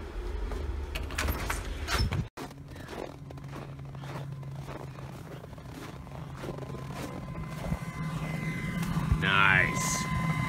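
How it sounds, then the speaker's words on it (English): A homemade electric forge blower, 110 watts, drones steadily with a roaring whoosh of air, briefly cut off near the start and then running on loudly with some clatter and a short whistling tone near the end. "That's 110 watts of blower power"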